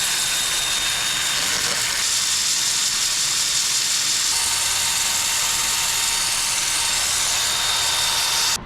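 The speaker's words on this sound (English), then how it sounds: "I got that sanded up to 80 grit." A quilted-figure wood turning spins on a lathe while being sanded at 80 grit, giving a steady, loud, broadband whooshing hiss that runs unbroken throughout.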